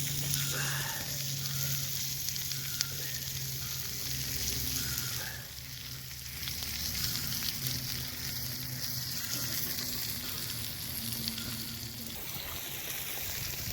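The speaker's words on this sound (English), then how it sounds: "Ribs are actually cooking quite nicely for just a rock, as rudimentary as it is." Ribs sizzle on a hot rock over an open fire, a steady close frying hiss running throughout with faint crackle and no talk.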